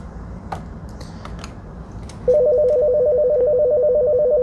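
A Mitel 6920 desk phone rings with two lines ringing at once, a steady electronic tone starting partway in and holding loud over faint background clicks.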